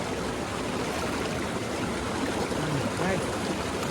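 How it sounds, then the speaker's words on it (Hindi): The fast-flowing Amlong river rushes in a valley between hills, a loud, continuous broadband roar of turbulent water heard close up with no break. "पानी का वेव, पानी का करंट"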